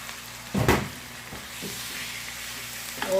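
Chicken pieces added to a pan of browned garlic and ginger, sizzling and frying steadily with a burst of clatter near the start and occasional stirring scrapes, no voices.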